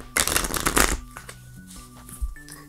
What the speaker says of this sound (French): Pour compliquer un peu le tour, je fais quelques mélanges.